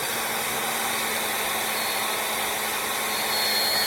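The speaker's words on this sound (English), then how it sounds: "Yeah, I use a blow dryer. I don't have a gun." A blow dryer runs steadily on high, its broadband airy whoosh and motor whine holding constant throughout while heating shrink wrap on a boat to smooth out wrinkles, with no voices.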